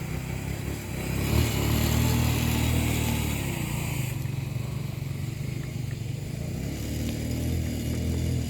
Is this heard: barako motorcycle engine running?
yes